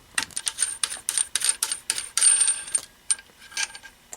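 Metallic ratcheting clicks from unscrewing the barrel of a Vector Arms Mini Uzi, a quick run of close, sharp, uneven clicks and scrapes with brief pauses, no talk.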